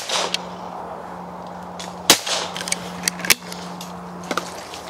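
A .410 shotgun with a pistol grip and solid recoil pad fires two sharp, loud reports about a second apart, each a sudden crack over steady outdoor background hum, with faint clicks between.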